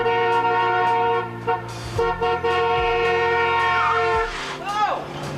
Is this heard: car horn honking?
yes